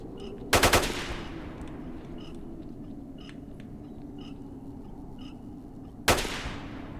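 Two loud shotgun blasts from bandits in the S.T.A.L.K.E.R. shooter game, one near the start and one near the end, each with a short crackling decay over a low steady ambient rumble.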